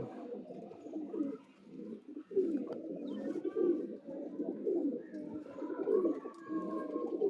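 A Madrasi fancy pigeon, with a female among a pair, coos at close range, continuous low throaty warbling that swells and dips, with a brief lull near the start.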